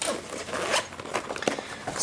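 A zipper on a fabric pencil case that holds 72 pencils is drawn open in a few quick rasping pulls up close, with a faint voice in the background.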